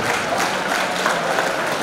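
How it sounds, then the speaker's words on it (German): A short burst of dense, even applause from an audience at a club event, brisk and continuous throughout. "Ein kleiner Applaus"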